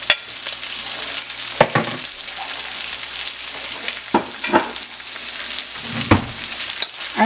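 Onions frying in a hot pan for Chinese-style pepper steak, giving a steady, loud, close sizzle throughout, with occasional scrapes and clatters from stirring.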